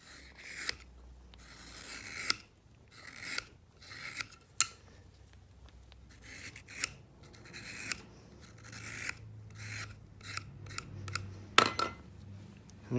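Leather belt keeper being thinned down by hand, a run of short scraping and cutting strokes with pauses between them, close and fairly crisp with no talking.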